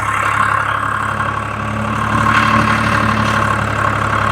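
A Swaraj 735 tractor runs pulling a 5-tyne plough through a field for deep tillage, its engine a loud, steady, close drone with constant low rumble and a slight rise in load partway through.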